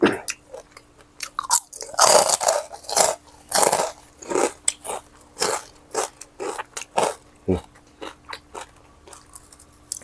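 Loud, close crunching bites into crispy fried pork rinds eaten alongside a spicy Thai papaya salad and giant pork sausage, a rapid series of sharp crackling crunches and chewing repeating throughout with no talk.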